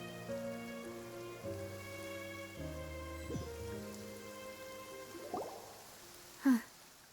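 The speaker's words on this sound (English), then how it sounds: "It's been raining non-stop for a few days now." Rain falls steadily in Fontaine in the video game Genshin Impact, a soft constant patter under layered background music, with one brief louder accent near the end.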